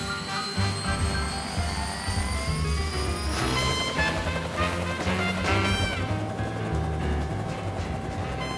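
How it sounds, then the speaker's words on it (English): Loud, sustained Royal Thai Police helicopter engine whine and rotor roar, the pitch rising steadily as it powers up for takeoff, close by. "the helicopter of the Royal Thai Police is taken off"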